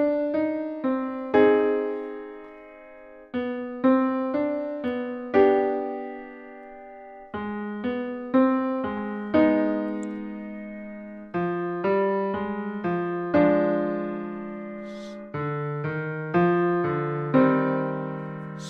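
A short melodic piece of plucked, bell-like synth notes, struck in phrases of chords and single tones that ring and decay, clear and unaccompanied.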